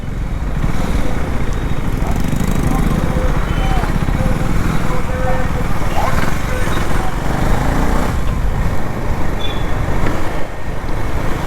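A KTM Duke 390 motorcycle cruises a city highway on a commute, its engine droning steadily under loud wind and traffic noise, with a rider speaking over it.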